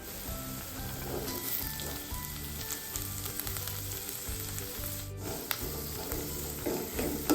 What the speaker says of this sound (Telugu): లైట్ బ్రౌన్ కలర్ వచ్చేంత వరకు ఫ్రై చేసుకొని సాల్ట్ యాడ్ చేసేసుకుందాం